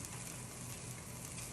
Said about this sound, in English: so I'm adding the garlic in